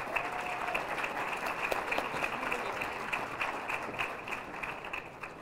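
Audience at a city news conference in Albuquerque applauding as a speaker comes up, a continuous moderate patter of many hands that fades slightly at the end.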